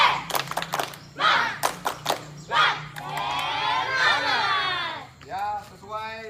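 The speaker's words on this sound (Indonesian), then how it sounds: "kita langsung aja tepuk semangat ya, biar semangat kegiatan di luarnya" A group of participants doing a spirit clapping chant outdoors before an activity, with sharp claps and shouted voices in bursts, then a sustained crowd cheer and a few short shouts at the end.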